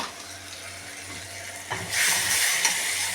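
Spice paste for a spicy tangra fish curry hits hot oil with a sudden sizzling hiss that swells loud over a quieter kitchen background and holds to the end.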